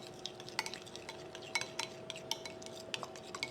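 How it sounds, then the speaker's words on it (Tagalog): Sesame oil dressing seasoned with salt and pepper is stirred briskly in a bowl, a quick series of close, light clinks and scrapes of a utensil against the dish with no voices. "Then i-mix lang natin hanggang maging well combined."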